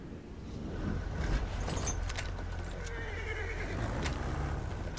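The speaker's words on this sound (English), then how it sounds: "Hi, horse!" A horse neighs in Battlefield 1 over a constant wash of battlefield and engine noise, the whinny rising clearly for a moment near the start.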